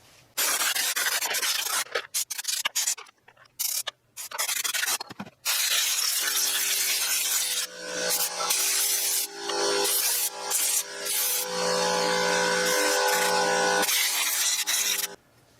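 Carburetor cleaner sprays onto a pit bike part in short, irregular hissing blasts and then longer sustained sprays, close and loud, with no talking.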